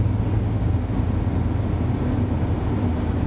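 An Audi RS3 facelift pulling in third gear from low revs, its five-cylinder engine giving a steady, loud low drone with turbo building boost, heard from inside the car with no talk.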